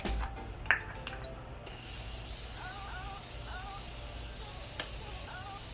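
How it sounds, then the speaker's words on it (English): A few clicks and a clink, then a steady, close hiss of Morphe makeup setting spray misting, continuing to the end, with faint voices underneath. "So now I'm just going in with Morphe setting spray."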